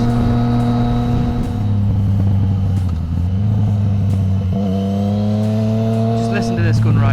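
A loud, close engine drone with strong low tones that shift pitch as the throttle changes, from a Yamaha MT-09 Tracer motorcycle's exhaust while riding.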